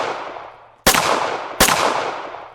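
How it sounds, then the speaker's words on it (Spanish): Two sudden, loud gunshots crack a little under a second apart, each with a long decaying echo that fills the space between them, with no voices present. "3 disparos"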